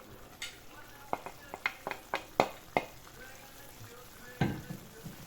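Zucchini cooking slowly in its own juice in a pan with no added water, a soft steady sizzle with scattered light clicks and taps of a utensil, one louder scrape near the end.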